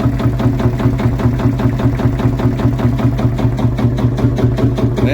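A vintage Marshall single-cylinder two-stroke diesel tractor engine runs steadily at a show, its fast, even chuffing beat loud and close throughout, with no voices over it.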